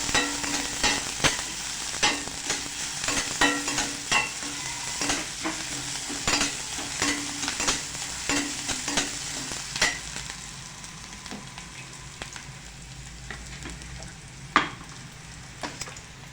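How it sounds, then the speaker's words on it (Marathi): Chopped onion fries in a pan for a Maharashtrian home thali, giving a continuous close sizzle broken by frequent scraping and clinking stirs that thin out toward the end, no voices. "कांदा चांगला भाजतो."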